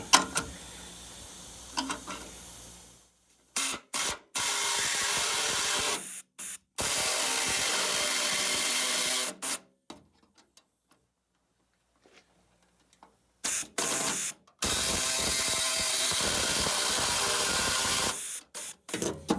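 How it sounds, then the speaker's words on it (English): An air saw cuts rusty body metal on a 1960s MGB GT during restoration. It makes a loud, harsh, buzzing rasp in long bursts that start and stop abruptly, with stretches of near silence between cuts. "I'm just going to use an air saw to try and cut out that bit I mentioned a minute ago"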